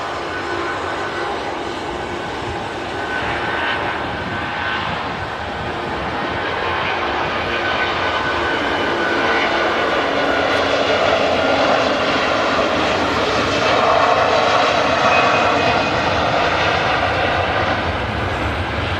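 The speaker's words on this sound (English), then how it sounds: "Tanker operating on behalf of Jet 2. Nice wide body aircraft in a Jet 2 fleet." A wide-body Airbus A330 tanker flying for Jet2 makes a steady jet engine roar. The sound builds gradually and stays continuous and fairly loud, with no talk over it.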